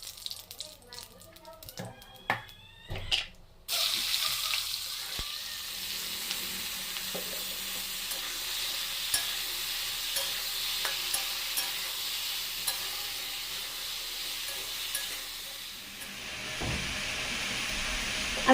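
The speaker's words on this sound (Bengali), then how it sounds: "বড়ি দিয়ে লাউ রান্না।" Bottle gourd curry with lentil dumplings cooking in a pan, a steady sizzling hiss with scattered stirring scrapes, after a few clattering knocks at the start.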